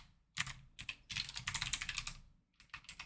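Code typed on a computer keyboard: quick, close clicking bursts of keystrokes in two runs separated by a short pause, crisp and alone.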